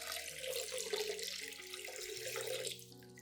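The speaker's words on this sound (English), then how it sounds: "pour 1 liter of room temperature water into the container" Room-temperature water poured steadily into a clean glass bowl, a continuous splashing trickle running close and fairly loud before easing off at the end, with soft music underneath.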